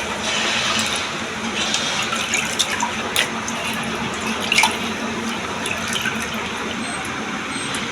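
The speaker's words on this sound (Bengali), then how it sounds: "এখন চিকেনগুলো আমি ভালো করে ধুয়ে নিচ্ছি," Chicken pieces for haleem are rinsed under a running tap, producing a steady close splashing water flow with a few brief louder splashes and drips as they are handled.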